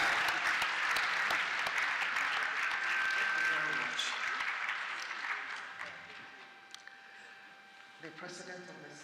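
Applause rings through the House of Representatives legislative hall, a dense crowd clapping that gradually thins and fades, with voices and a faint tone underneath toward the end.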